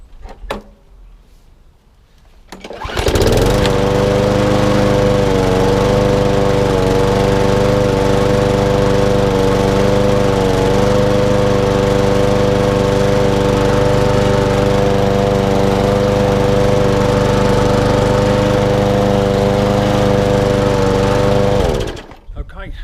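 A Briggs and Stratton petrol lawn mower engine starts up with a pull and runs at a loud, steady drone close by for about twenty seconds before cutting out.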